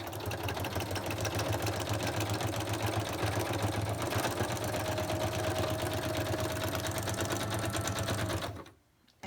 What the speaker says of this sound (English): I need to stitch there as well.